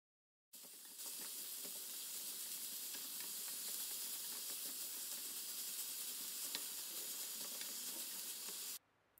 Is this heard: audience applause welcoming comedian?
no